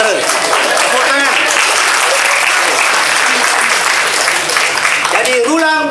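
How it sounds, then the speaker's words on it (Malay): An audience at a Mini Bangsawan school competition claps loudly and steadily throughout, a dense, close burst of applause with a few voices rising over it. "Tepuk tangan."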